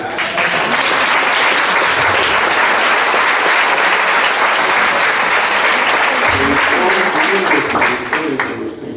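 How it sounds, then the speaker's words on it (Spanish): Sustained, dense applause from a seated audience honoring Don Fernando Pérez Gavilán at a discussion event, steady and full for several seconds with faint voices mixed in. "un aplauso quisiera pedirles para don Fernando Pérez Gavilán"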